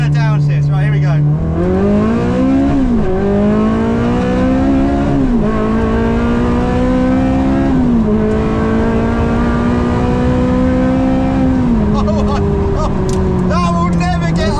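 A rare Ferrari engine in race mode roars loudly up close through a series of downshifts, each one a sharp jump in revs before settling. A voice speaks briefly over the engine.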